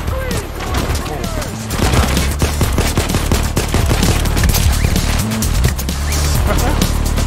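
Gunfire in the Payday 2 video game, with pistol and nailgun shots crackling in rapid bursts alongside booms and engine-like rumble, loud and continuous under game noise, with people talking over it.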